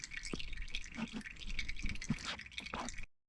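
Close, irregular drips of old engine oil from a Mercedes ML350 BlueTEC OM642 diesel splatting into a container, a handful of soft plops over a few seconds.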